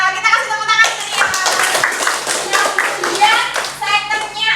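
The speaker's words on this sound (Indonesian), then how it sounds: "Kita kasih tepuk tangan ke Nia." Children at a kindergarten prize announcement clap together for a winner, a sustained rattle of small hands over the whole stretch with young voices mixed in.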